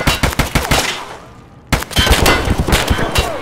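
Rapid automatic gunfire in Escape From Tarkov: loud, close bursts of shots, a brief lull, then another dense stretch of firing with echoing cracks.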